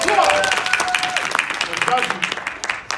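Audience applause for a young author at a children's storytelling festival: a crowd claps in a brisk patter that rises and holds for a few seconds, mixed with cheers and voices.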